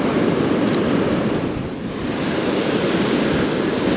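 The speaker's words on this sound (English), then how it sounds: "it's so windy it just blew my camera over" Strong southerly wind blows across a sandy beach with surf nearby, giving a loud, continuous roar that buffets the microphone.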